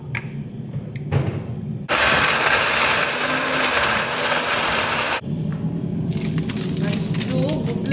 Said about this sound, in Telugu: మొత్తం మిక్సీకి అయితే పట్టేసుకుందాం